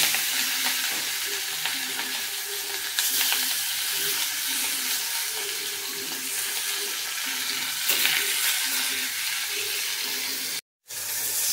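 Pieces of fish fry hard in hot oil in a home kitchen, making a loud, continuous crackling sizzle close up that runs without pause before cutting out briefly near the end.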